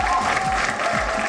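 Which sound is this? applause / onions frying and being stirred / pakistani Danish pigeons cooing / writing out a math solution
applause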